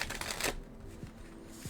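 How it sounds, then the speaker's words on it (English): Oracle cards are shuffled by hand up close, in quick riffling bursts and soft slides of the deck, with brief pauses between passes and no talking. "Let me start the shuffle"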